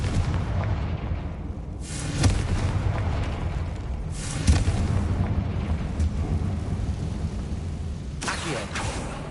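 A Confringo fire spell explodes in Hogwarts Legacy, heard as a low rumbling blast with repeated booming bursts over continuous background rumble across several seconds.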